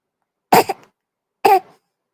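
A person coughs twice, about a second apart, each a short harsh burst close up with nothing else around it.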